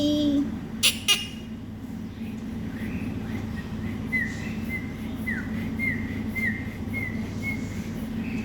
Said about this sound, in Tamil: இப்படி விசில் அடித்து காட்டினோம்னா அவங்க அப்பா மாதிரி அவன் ஃபீல் பண்ண ஆரம்பிச்சிருவான்